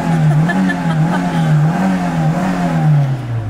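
A Fiat Uno engine hums and revs in gentle rising and falling waves, close and fairly loud, for several seconds.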